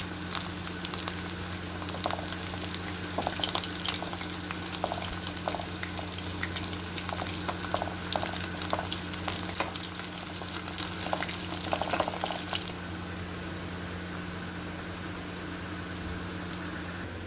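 Bitter gourds (karela) frying in a pan of oil, a steady close crackling sizzle with scattered pops that runs continuously, then drops to a quieter even hiss near the end.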